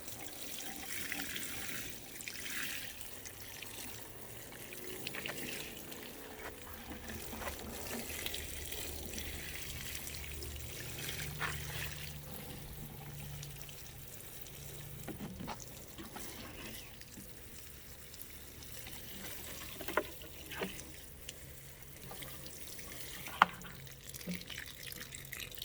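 Water trickles and splashes quietly onto newly planted ground cover, a faint, steady pour with occasional drips and small taps throughout.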